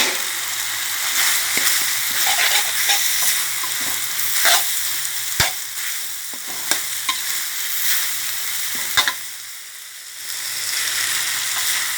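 Fish stir-fried in a pan with red curry paste and cumin leaves: a continuous close sizzle with repeated scraping and clattering of the spatula, and a brief quieter dip near the end.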